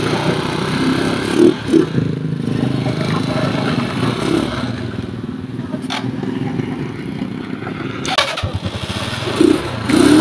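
An old, long-unused motorcycle started with a single press of its push-button starter after repairs, its engine catching and idling steadily and close, with someone speaking over the running motor.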